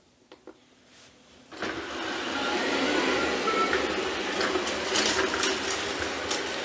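A Shark AV2501AE robot vacuum starts up on hard floor strewn with protein powder and chips, a quiet click or two giving way to a steady whirring suction hum with faint rattling pickup, moderately loud and unaccompanied by speech.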